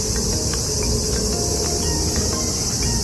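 At a seaside campsite in Tokyo's Wakasu park, insects such as cicadas drone in a dense, continuous chorus that stays loud and steady throughout, with no talking over it.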